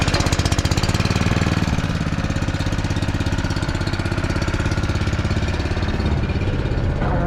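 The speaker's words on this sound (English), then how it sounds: "Recirculation valve off, bottom draw on, pump hopefully gonna turn on." A pump running on a fertilizer tank on a farm: a loud, close, steady engine-like chugging with an even, rapid pulse that continues throughout.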